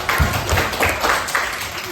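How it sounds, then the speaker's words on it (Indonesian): A short burst of clapping from a group of children in a classroom, several hands beating in a loose, quick rhythm for about two seconds. "Pintar, tepuk tangan"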